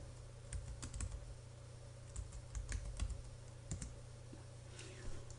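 Someone types a password on a computer keyboard, producing quiet, irregular key clicks over a steady low hum.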